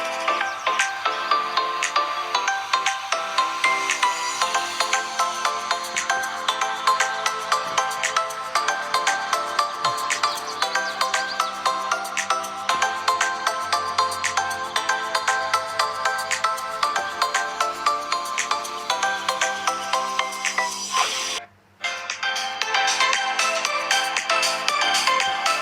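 A ringtone plays continuously from the small mono speaker of a budget local Indonesian smartphone held close, a loud, busy melodic tune with a brief dropout near the end and no talking over it.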